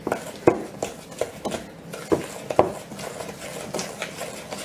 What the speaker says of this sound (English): Mix, mix, mix, mix.